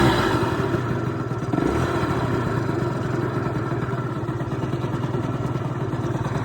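A 1989 Yamaha Zuma scooter engine putters steadily while riding, a continuous rough, clattering drone with a slight surge partway through, up close and mixed with wind noise.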